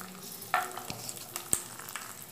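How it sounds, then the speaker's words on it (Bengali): Dried chili, slit green chili, curry leaves and chopped garlic frying in a pan, a soft crackling sizzle with a few sharp spatters and clicks of stirring, close and fairly quiet. "এরপর এর মধ্যে আমি দিয়ে দেব শুকনো লঙ্কা, 2 কাঁচা লঙ্কা ফাড়া, 4-5টা কারি পাতা আর 4-5 কোয়া রসুন কুচি"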